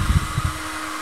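A heat dryer blows warm air onto the adhesive of a Samsung Galaxy S4 replacement screen glass, giving a steady, close, loud whooshing hum with a few low thumps near the start.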